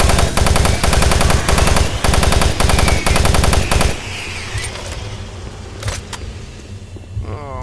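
Loud rapid-fire bursts from an automatic weapon in the video game Doom 3, hammering for about four seconds before cutting off. Quieter ambience follows, with a few faint scattered shots and clicks.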